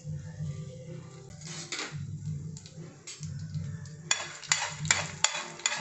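Fenugreek seeds and dried red chillies roasting in a pan for a Karthigai Deepam dish, with a low steady crackle broken by scraping stirs and sharper clinks of a spoon against the pan near the end.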